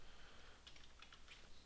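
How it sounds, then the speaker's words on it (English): Keys click softly on a computer keyboard in a few scattered taps, faint and close under a low background hiss. "you have to bear with my typing today"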